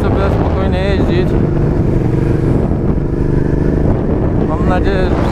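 A 2008 Suzuki SV650N motorcycle on the move, its engine drone mixed with heavy wind rush. The noise is loud and steady throughout, with a voice faintly present underneath.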